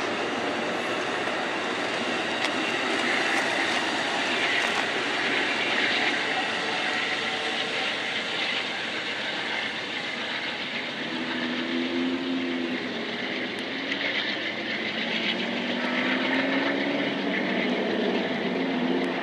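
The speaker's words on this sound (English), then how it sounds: "You have a Alco-esque locomotive." Amtrak eastbound train No. 6 with an Alco-style locomotive idling at a scheduled stop at Fort Morgan, Colorado, a steady broad engine rumble filling the whole stretch with faint squealing tones near the end.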